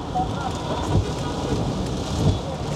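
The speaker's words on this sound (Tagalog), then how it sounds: "Lalong lumakas ang ulan." Heavy rain pours in a steady, dense roar on Congressional Avenue in Quezon City during street-clearing operations, with a couple of dull low thumps underneath.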